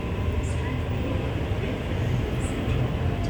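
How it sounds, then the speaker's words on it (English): A Sydney suburban train pulls into the platform at Blacktown station, a steady close rumble and hum of wheels and motors with faint high squeals from the rails, running continuously through the clip. "We have 876 arriving onto platform number 1, heading to North Sydney via Central."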